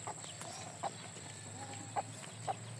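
Pet chickens in a backyard garden give a few short, soft clucks spaced over a couple of seconds against a faint, steady background hum.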